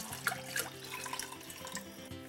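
Mushroom water poured into a pot of broth for a Korean seafood dish, a short steady splashing pour with trickling and faint clinks, close and quiet, no voices.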